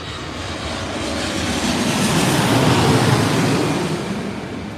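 Etihad airliner landing at Heathrow Airport, a broad roaring engine rush that swells toward the middle and slowly fades, heard from outside with no voices.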